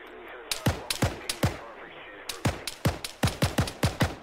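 Arma 3 firefight with about a dozen sharp, separate gunshots cracking in an irregular rhythm, some spaced apart and others in quick pairs, loud and close with no talking over them.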